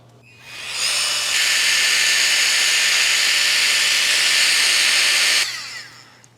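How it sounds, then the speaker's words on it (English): A portable tire inflator pushes out a strong, loud hiss of air close by, rising quickly, holding steady for several seconds, then cutting off. "So we actually end up using these tire inflators for lots of stuff that we do."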